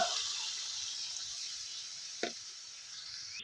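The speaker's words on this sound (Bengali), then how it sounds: "এবার আমি পরিমাণ মতো জল দিয়ে দেব" Water goes into a pot of spiced squash and potato curry, producing a steady hissing sizzle with a brief splash partway through, close and fairly soft.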